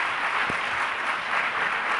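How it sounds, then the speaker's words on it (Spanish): Audience applause at an international congress on good practice with ICT, a steady burst of clapping from a seated crowd filling the room for a couple of seconds. "así que le damos un aplauso, por favor"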